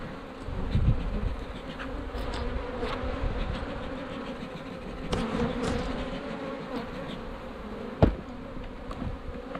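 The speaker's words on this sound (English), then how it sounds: "Pretty full of bees." A dense, steady hum of many honey bees buzzing close by in a hive, continuous throughout with a few faint knocks and rustles.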